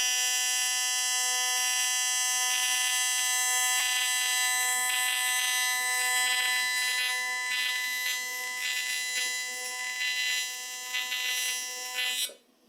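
A loud, piercing high-pitched electrical whine from a Jasic TIG-200P AC/DC welder on AC at 250 Hz holds steady for several seconds, buzzing continuously before cutting off abruptly.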